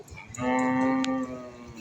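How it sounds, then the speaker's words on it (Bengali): A spirited bull at the Dhanbari Narila cattle market lets out a single loud, close, drawn-out moo lasting about a second amid faint market noise. "খুবই তেজি একটি ষাঁড়"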